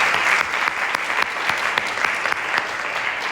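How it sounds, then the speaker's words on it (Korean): A church congregation claps to encourage the adult camp preparation committee, producing dense, even applause with a few sharper individual claps standing out, and no speech over it. "이분들에게 또한 격려의 박수 부탁드리겠습니다"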